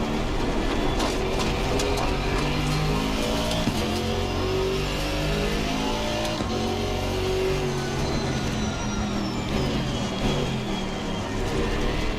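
GT4 race car engines drone and rise together during a crowded race at Oulton Park in Assetto Corsa Competizione, a continuous loud roar of several cars in close traffic with no talk.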